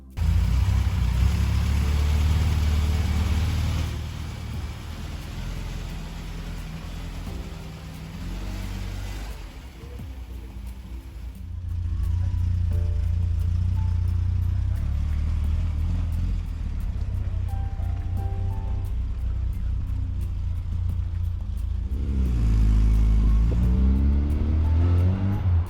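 A classic Mini running on a test drive after rolling road tuning, its engine droning steadily from inside the car with rises and dips in pitch as it accelerates and eases off.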